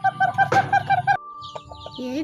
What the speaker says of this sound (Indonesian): pitike ayame pada moni piak-piak ngelien